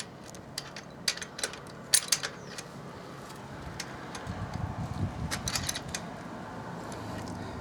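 A number 10 wrench turns the rear wheel nut on a mamachari bicycle, giving intermittent close metallic ratcheting clicks and creaks in short bursts, with a low rumble of handling underneath.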